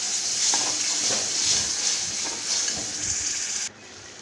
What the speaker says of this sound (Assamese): একেলগে ঢালি লৈছোঁ, লৈ অকণমান ভাজি লৈছোঁ